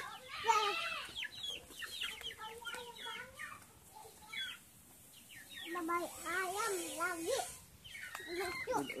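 Free-range village chickens cluck nearby in short, irregular bursts, mixed with soft chick-like peeps. People talk quietly at the same time.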